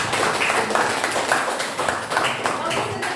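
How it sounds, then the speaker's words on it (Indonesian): Classmates applaud a short speech in a classroom, an even patter of claps mixed with voices, moderately loud and steady throughout. "Beri tepuk tangan teman-teman."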